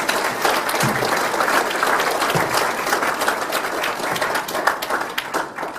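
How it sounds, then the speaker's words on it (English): Steady, dense applause rolls from an audience at a maritime museum's 25th anniversary celebration, many hands clapping close and loud throughout with a few sharper individual claps. "So let's just keep applauding tonight, please."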